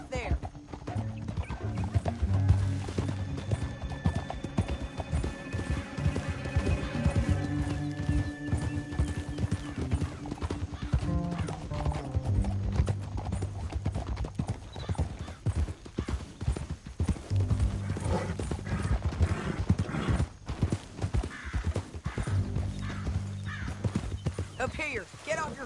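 Horses gallop across open country in Red Dead Redemption 2, with rapid, loud clip-clop hoofbeats driving steadily throughout, occasional whinnies, and a musical score running underneath.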